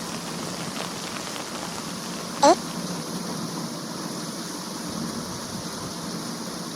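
Heavy rain pours steadily at moderate distance, a continuous even wash with one brief sharp tick partway through.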